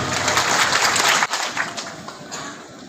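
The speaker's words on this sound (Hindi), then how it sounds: "मैं चाहूंगा एक बार जोरदार खतरनाक तालियां हो जाए" An audience at an Ayurveda training event bursts into loud applause that holds for about a second, then drops sharply and fades into scattered, thinning claps.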